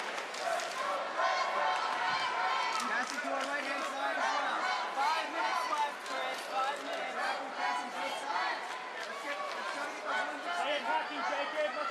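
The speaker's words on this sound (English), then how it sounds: "this is the third match in a row we've had a chant for the Daisy Fresh athlete" A crowd at a grappling team dual chants steadily for a Daisy Fresh athlete, a rhythmic babble of many voices that runs throughout under the hall's general noise.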